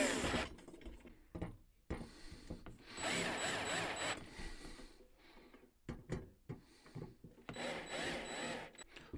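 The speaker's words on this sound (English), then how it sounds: "place in one bolt at a time and start to tighten down opposite ends. With the screwdriver," Metal screwdriver tightening bolts on a 6-light black farmhouse lantern chandelier, giving repeated ratcheting, scraping and clicking bursts in several close bouts with short pauses, no talk.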